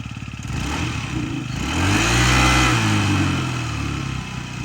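A fuel-injected Yamaha Jog SA36 scooter engine runs steadily up close, with its steady hum swelling briefly in the middle before settling back to an even idle.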